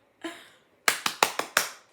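Six sharp hand claps, one isolated clap followed after a pause by a quick irregular burst of five, close and clear in a quiet room.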